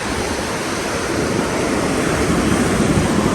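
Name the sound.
sea waves at Arugam Bay beach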